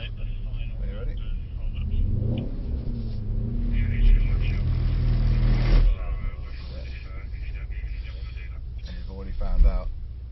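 A Mercedes-AMG GT63S engine rumbles and surges under a burst of throttle on a race track, heard from the cabin under continuous talking, swelling toward a peak before easing off, then briefly rising again at the end.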